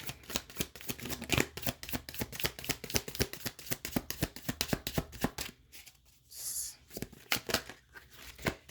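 Tarot cards are handled and shuffled close by, with a rapid run of riffling flicks and soft slaps, then a brief pause before another card is drawn.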